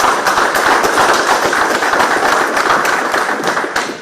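Applause at a Monroe police department press conference about a shooting at a Hibbett Sports store, loud, steady and close clapping from a room of people, sustained for several seconds without talk.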